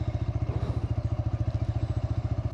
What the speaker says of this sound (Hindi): अब क्लच दबाऊंगा, स्टार्ट हो जाएगी।